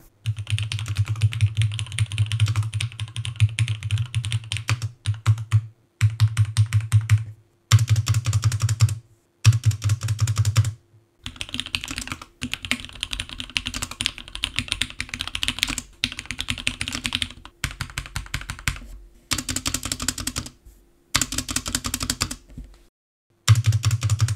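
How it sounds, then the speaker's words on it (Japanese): Steady bursts of keyboard typing, rapid clicky keystrokes in runs separated by short pauses, close and fairly loud with no talking. "これでキーボードを叩いていきます"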